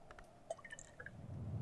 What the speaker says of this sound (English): A little water splashes on the stones of the well to nourish the mosses there.